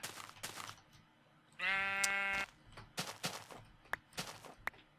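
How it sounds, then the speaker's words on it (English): A sheep in the Minecraft video game gives one clear, loud bleat partway through, set among soft footstep-like thuds and small game sounds. "There's some more sheep."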